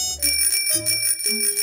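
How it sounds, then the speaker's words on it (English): A cartoon scooter bell rings in a quick series of bright, loud dings, each a different pitched chime, close and alone. "my scooter bell."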